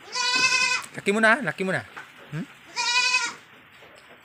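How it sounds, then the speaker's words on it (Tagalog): A male breeder goat in a goat house bleats twice, loud and close, with long wavering cries at the start and near the end, while someone speaks between them. "Ito pala yung lalaking kambing."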